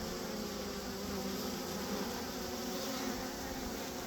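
Dense, steady buzzing of many honeybees working a hive during a swarm rescue, a continuous close drone with no pauses and no voices.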